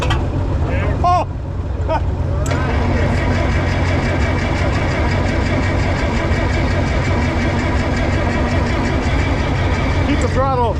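An antique tractor engine turns over and runs roughly as it tries to start at a tractor auction, a loud continuous close rumble with people talking over it.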